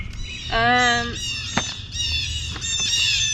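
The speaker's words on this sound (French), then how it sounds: "Excusez les petits oiseaux." Small birds squawk loudly and close by in a bright, repeated series of harsh calls, with a few sharp chirps near the end, heard in a stable where a horse is being groomed.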